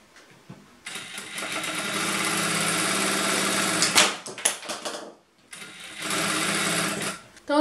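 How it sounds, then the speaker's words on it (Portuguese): A sewing machine stitches fabric for pajamas in long, steady runs of rapid mechanical whirring, stopping briefly in the middle before starting again, with a nearby voice during the pause. "eu vou costurando isso aqui até o final"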